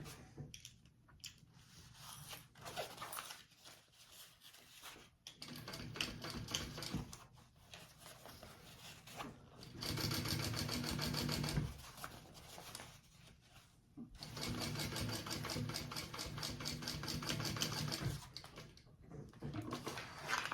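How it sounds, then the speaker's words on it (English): A sewing machine topstitches a fabric sling in rapid mechanical bursts, with two long sustained runs of stitching separated by quieter pauses and handling noise, heard close and alone. "I'm gonna go ahead and top stitch this other side here."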